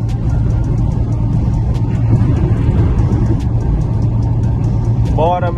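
A Fiat Uno 1.4 engine accelerating on the road, heard from inside the car as a steady droning rumble with road noise, holding constant at high revs without pause, a brief higher tone near the end.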